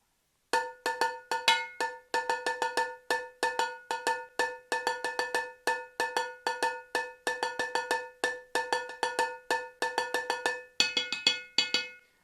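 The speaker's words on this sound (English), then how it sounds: "now I can consider using the spaghetti pot with my drumsticks" A metal spaghetti pot struck with drumsticks gives bright, ringing cowbell-like hits in quick rhythmic bursts, loud and close with short pauses between phrases and no talking.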